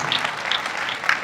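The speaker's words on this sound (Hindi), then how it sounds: "जोरदार तालियां बजा दो" Brief burst of audience clapping at a Hindi poetry recital (kavi sammelan), dense and steady for about a second.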